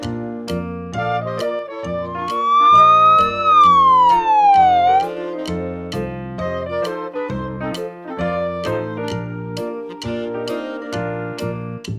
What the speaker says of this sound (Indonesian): Wow, ada mobil ambulans teman-teman.